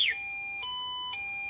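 An alarm sounding, with a quick descending electronic chirp followed by steady high-pitched beeping tones that pulse roughly every half second, clear and close with no talking.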